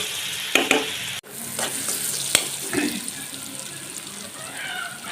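Pieces of hilsa fish sizzle steadily in hot oil in a home kitchen, a bright continuous hiss with a few sharper spatters and clinks of stirring.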